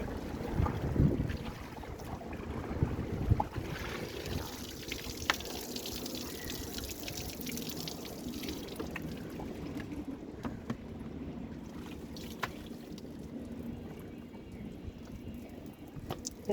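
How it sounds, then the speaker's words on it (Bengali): Dirty water poured out on a rooftop after washing a helmet, a rushing splash that fades into windy outdoor noise and scattered knocks, with no one speaking. "ফার্স্ট অফ অল আমি এই পানিটা ফালা দিই"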